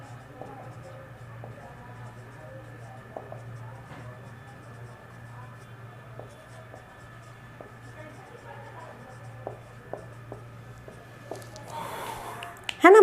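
Pen scratching on paper during an accountancy lesson on partnership firm dissolution, a quiet steady writing texture with soft irregular strokes over a low hum, ending in a louder burst of handling noise.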